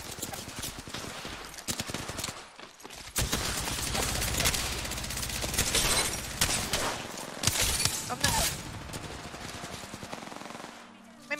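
Gunfire in a shooting video game, with loud rapid automatic bursts and scattered single shots running continuously, and a voice talking over the shooting.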